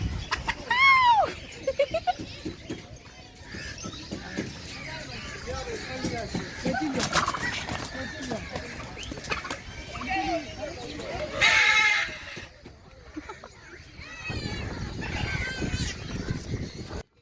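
A pair of unruly turkeys and other birds at a zoo in Pakistan make a noisy mix of overlapping squawks, gobbles and bleat-like calls, loud and close at times. Someone talks over much of it.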